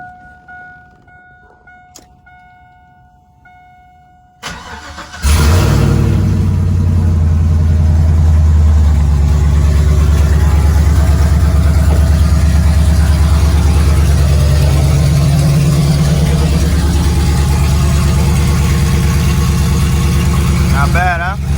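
Cold start of a 1999–2006 Chevrolet Silverado step side pickup: after a quiet stretch, the engine cranks briefly, catches with a loud burst, and then settles into a steady, deep, close-up idle that runs for the rest of the clip.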